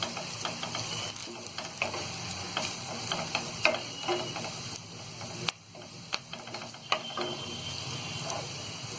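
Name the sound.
turmeric powder lightly roasting in a pan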